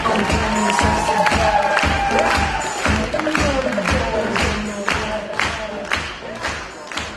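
A loud, dense crowd claps and cheers for a performer introduced on stage at a KVN comedy show, with rhythmic sharp claps and shouts sustained throughout, including children's voices.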